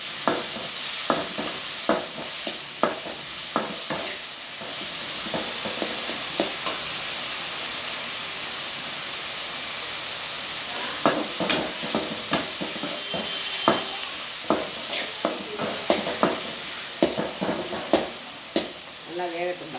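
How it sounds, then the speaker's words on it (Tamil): Tomatoes and mutton cooking down in a pan for curry, with a steady sizzle and hiss throughout and periodic sharp scraping stirs, clustering more densely in the second half. "நல்லா தக்காளி வந்து குழையிற அளவுக்கு நல்லா வெந்துக்கணும்."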